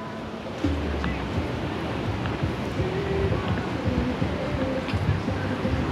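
Ocean waves breaking on the beach at Peruíbe, a steady rolling surf wash with wind noise against the microphone, and faint voices in the background.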